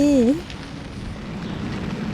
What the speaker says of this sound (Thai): ดูสภาพอากาศ ฝนตกหนักมากทุกคน